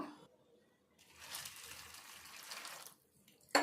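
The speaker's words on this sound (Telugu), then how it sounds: "ఈ మరమరాలను కొన్ని నీళ్ళు వేసుకొని కడుక్కొని తీసుకుందాము" Water splashes and swishes steadily for a couple of seconds as puffed rice is rinsed in a bowl, then stops with a brief clatter at the end.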